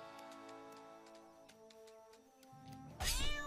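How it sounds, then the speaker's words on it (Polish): A cat in the video game South Park: The Fractured but Whole gives a loud, drawn-out meow that bursts in near the end over a sustained musical game soundtrack with ticking accents. "Kot."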